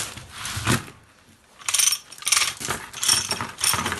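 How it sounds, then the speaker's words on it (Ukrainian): A hand winch with a hook, sold as a spare part for cultivators, ploughs and MTZ or YuMZ tractors, being cranked by hand. Its ratchet and pawl click and rattle in several close bursts with short pauses between them, and no one speaks. "Лебідка 1800 гривень. Гак крутиться, все тут крутиться, тут теж крутиться."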